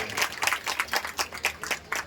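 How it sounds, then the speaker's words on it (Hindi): An audience at a shop opening speech claps in unison, a steady rhythmic series of hand claps at a moderate distance, fairly faint and without talking over it. "जोरदार ताली हो जाए।"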